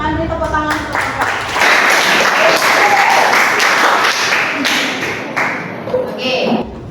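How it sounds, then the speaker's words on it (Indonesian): A classroom full of people claps steadily for several seconds after a presentation, loud and close, with a few voices and thumps mixed in at the start and end. "Silakan beri tepuk tangan untuk Bapak."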